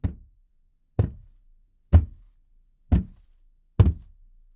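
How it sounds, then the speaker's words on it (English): Five heavy, evenly spaced bangs ring out in a crumbling abandoned building, each a dull thud with a short decay, about one second apart and fairly loud against near silence. "I think I just heard some banging again."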